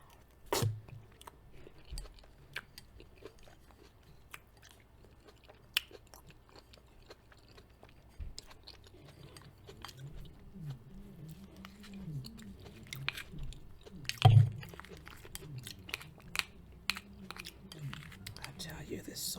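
Close, quiet mouth sounds of someone eating skillet-baked apple pie with salted caramel ice cream: soft chewing and occasional crunchy bites, irregular and intimate, with a sharper bite near the middle and no talking.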